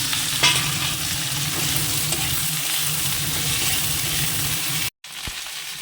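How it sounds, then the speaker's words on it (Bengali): Okra fries in hot oil in a home kitchen with a steady, close sizzle and faint stirring scrapes. The sound cuts out briefly near the end and then resumes. "তেলটা গরম হয়ে গেছে, তো আগে ভেন্ডিটাই ভাজা বসিয়ে দিই"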